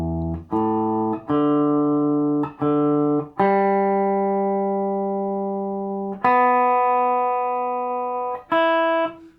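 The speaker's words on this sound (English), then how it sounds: "Actually, maybe I'll very quickly just double check that tuning." Distorted electric guitar strings being tuned, plucked one at a time, each ringing and decaying before the next, with a few repeated and held tones.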